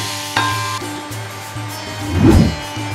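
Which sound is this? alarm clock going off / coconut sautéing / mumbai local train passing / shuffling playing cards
coconut sautéing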